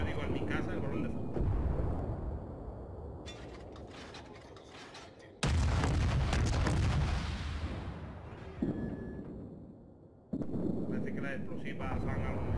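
Loud naval guns of a Japanese Chikuma cruiser firing high-explosive shells in World of Warships, heavy booming salvos in several bursts with rumbling tails, a big blast near the middle, over steady game ambience.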